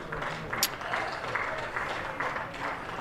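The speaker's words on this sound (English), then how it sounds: "And lots of applause." Cricket crowd at a Glamorgan versus Somerset County Championship match applauding, a steady patter of clapping from a modest crowd, moderately distant, with a brief sharp knock partway through.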